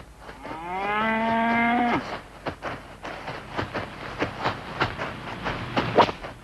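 A cow on Easter Island gives one long, loud, close moo lasting about two seconds, followed by scattered clicks, knocks and rustling farmyard noises.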